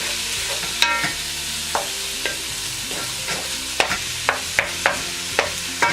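Spaghetti meat sauce cooks in a pan with a steady sizzle and bubbling, broken by sharp clinks and taps of a utensil stirring against the pan, close and with no voices.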